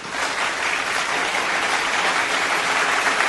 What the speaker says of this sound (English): Give them clap for that.